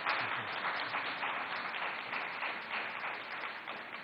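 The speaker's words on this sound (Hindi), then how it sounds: "एक बार जोरदार तालियां बजा दीजिए" Steady applause from an audience welcoming Sukhbir Singh Badal at an ABP News event, a continuous even wash of clapping throughout with no talk over it.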